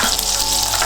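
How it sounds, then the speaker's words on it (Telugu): Green chillies splutter in hot oil for a vegetable chapathi roll filling, a dense, close crackling sizzle that holds steady for a moment with no talking. "ఇప్పుడు కొద్దిగా పచ్చిమిర్చి, ఇలా కొంచెం చిట్టపటలాడుతున్నప్పుడు"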